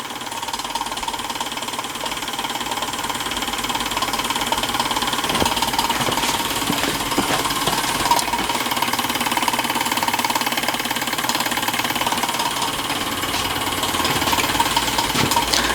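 Stirlingkit Retrol GF-01 miniature workshop, a small model engine setup, drives a generator and light through pulleys with a steady, close mechanical whirring and rapid ratchet-like clicking that runs continuously throughout.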